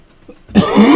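A harsh, loud cough bursts out after a brief quiet moment and carries on raspily, close to the listener.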